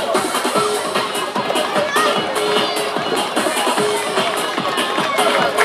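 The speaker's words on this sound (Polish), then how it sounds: "wielkie brawa dla nich" A crowd cheering and clapping for the winners of a medieval knights' five-man retinue combat tournament, a dense steady roar of applause and voices with loud, close background hubbub throughout.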